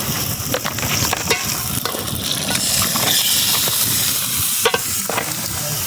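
Chicken frying in a pan in an outdoor forest setting with curry leaves, a loud continuous sizzle broken by repeated scraping strokes of stirring, no voices.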